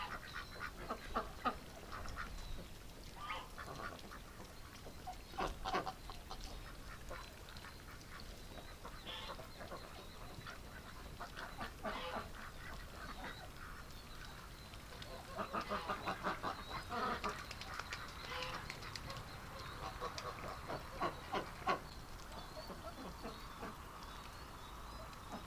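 A flock of sleepy ducks quacks steadily for about twenty-five seconds in winter, overlapping nasal calls near and far, with an occasional goose honk mixed in and no speech.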